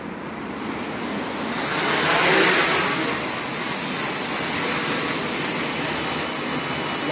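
A Q Brain Anycopter multirotor drone lifts off on its first flight, a loud steady whine with a high tonal buzz that builds and holds close by, a voice faintly underneath.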